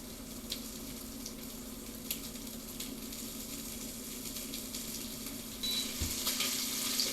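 Fish fillets for Baja fish tacos frying in a pan, a steady close sizzle and crackle that holds for several seconds with small pops and no talking.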